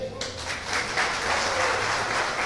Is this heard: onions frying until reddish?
no